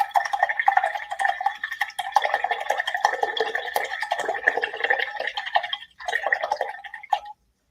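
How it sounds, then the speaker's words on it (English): A paintbrush swished and rinsed in a water cup, a steady busy clatter of bristles against the container lasting several seconds, close and fairly loud, with a brief pause near the end. "I'm gonna rinse my brush."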